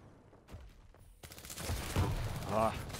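Rocket launcher and shotgun fire in the video game Quake during a 1v1 championship match, a series of sharp blasts and explosions that grow louder and denser, mixed with game effects and a commentator talking over them.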